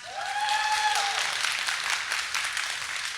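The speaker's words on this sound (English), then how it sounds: "Can we get a round of applause for Pishy Fat?" An audience at an osu! developer talk applauds, steady clapping rising at the start and holding through, with a whoop or cheer near the beginning and a faint murmur beneath.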